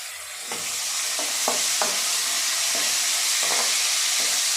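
Lentils with green chillies and ginger-garlic paste fry on medium flame with a bright, steady sizzle, punctuated by several sharp scraping strokes of a stirring spoon against the pan.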